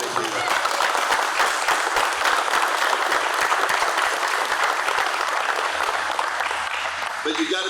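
Audience applause at an urban search and rescue task force event, a steady, dense clapping from a crowd that holds at even loudness for several seconds without a break.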